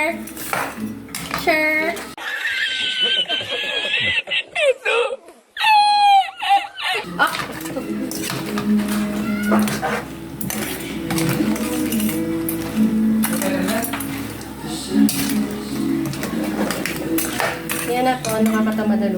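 Utensils clatter and scrape against a pot as food is mixed, with frequent clinks and knocks running throughout, close and fairly loud, and people talking over the stirring.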